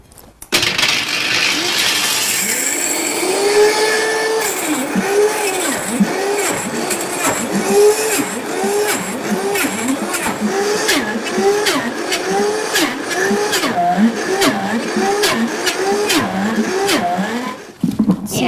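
Kitchen blender mixing cocoa powder into a smooth chocolate paste for a no-bake dessert: a loud, wavering motor whine with rhythmic pulsing and rattling clicks that runs for most of the stretch, then cuts off near the end.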